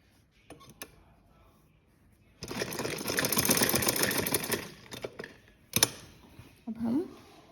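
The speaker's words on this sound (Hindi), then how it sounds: "अब हम यहाँ पे सिलाई लगाएंगे" Sewing machine stitching lace onto a frock suit, a few short taps, then a fast rattling run of stitches lasting about two seconds, followed by brief bursts and clicks, close and moderately loud.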